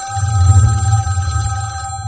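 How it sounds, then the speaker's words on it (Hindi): A telephone rings with an electronic tone over a low hum, steady and fairly loud, signalling an incoming call. "कुछ दिनों बाद एसआईटी को एक फोन कॉल आती है।"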